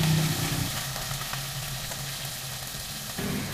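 Food sizzles steadily in a pan over a wood fire, a continuous close frying hiss with faint bubbling throughout.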